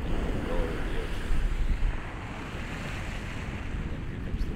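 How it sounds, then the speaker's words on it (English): Ocean roar sound effect layered into a game soundtrack: a dense, steady low wash of surf with broadband hiss, swelling slightly in the first two seconds then holding even, with no voice over it. "And the roar of the ocean."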